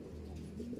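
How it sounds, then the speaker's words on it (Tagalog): Racing pigeons coo as they pass overhead: a faint, soft, low cooing call that swells slightly near the end against quiet background hiss. "ang dami nang dumadaang ibon ngayon"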